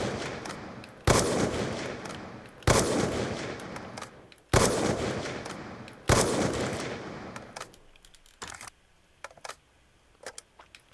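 Four loud rifle shots from Black Ops 2, each spaced about a second and a half apart with a decaying tail, followed by softer clicks and clatter of a reload cancel; no one talks.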